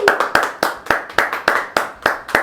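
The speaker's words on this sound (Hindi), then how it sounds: "ये एक बार जोरदार तालियां" Sharp, close hand claps in a quick steady rhythm from a small group, celebrating the winner of a biryani eating challenge, with no talk over them.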